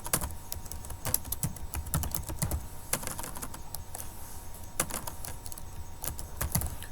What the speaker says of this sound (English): So I am going to type right now digital marketing.